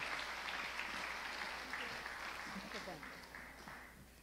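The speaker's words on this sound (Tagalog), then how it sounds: "Malakas na palakpak po sa Panginoon." A church congregation at a Sunday service claps steadily for a few seconds in a dense, even wash of applause heard from a moderate distance, with faint voices mixed underneath.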